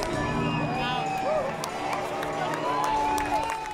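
A sold-out crowd on opening day at Jimmy John's Field baseball stadium in Macomb County makes a broad, steady roar of cheering and chatter, with a voice speaking over the din.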